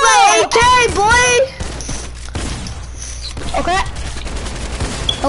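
AK rifle fire in the Fortnite video game rings out in rapid bursts near the start, then fades into quieter game noise, with a player's voice talking over parts of it.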